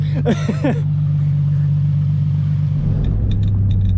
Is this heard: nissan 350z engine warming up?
yes